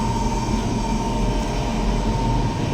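A steady mechanical drone from an air conditioner condenser unit, with a constant low hum and a faint whine running unchanged throughout, close and continuous.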